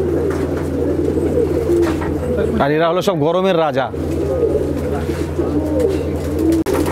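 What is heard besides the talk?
Andhra breed pigeons cooing in loft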